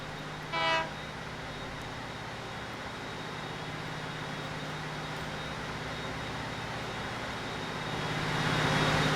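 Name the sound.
train departing in the video game Transport Fever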